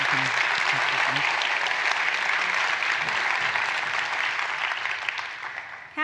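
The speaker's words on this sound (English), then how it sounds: "can we please give them a round of applause?" A loud, dense round of applause at an education awards celebration honoring two retired gentlemen, steady for several seconds before tapering at the end, with some brief talk at the start.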